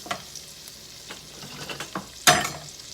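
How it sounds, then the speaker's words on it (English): Onions sauteing in a pan for broccoli cheese soup, a soft intermittent sizzle with light stirring scrapes, then a sudden loud crackling hiss as more food hits the hot pan. "Let them saute. For a few minutes."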